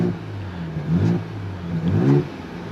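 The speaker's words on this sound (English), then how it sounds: "We're gonna put our exhaust on sport mode and see how this baby sounds before we close the door." A 2023 Ford Bronco Raptor 3.0L twin-turbo V6 with exhaust in sport mode revs twice in quick bursts, rising and falling, over a steady idle rumble, close by with no talking.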